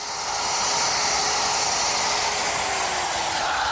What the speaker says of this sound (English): To inlay the plywood, I use my router, a collar system, and a small router bit.